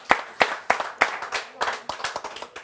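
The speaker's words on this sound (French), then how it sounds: "on applaudit s'il vous plaît." A small studio audience on a French broadcast claps in distinct, separate hand claps, fairly close and uneven, thinning slightly toward the end.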